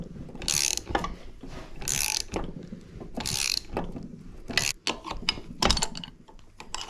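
Ratcheting wrench clicking on a Yamaha YZ125 two-stroke engine during a full teardown, bursts of rapid ratchet clicks repeating in close, fairly loud strokes with brief pauses between.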